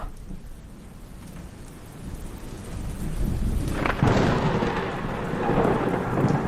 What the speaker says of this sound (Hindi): सड़क के किनारे एक ताड़ के पेड़ पर बिजली गिरी।